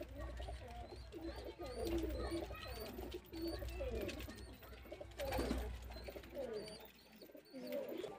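Giribaz high-flying pigeons, male and female, coo repeatedly in a loft with soft, throaty, rolling calls that rise and fall close by, over a low steady background hum.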